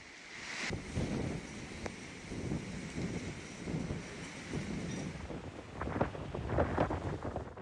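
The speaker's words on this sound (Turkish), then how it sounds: "Düzce'de kuvvetli rüzgar vardı." Strong gusting wind during a storm in Düzce, Turkey, buffets the microphone with rough, rumbling roars, rising and falling, growing heavier toward the end.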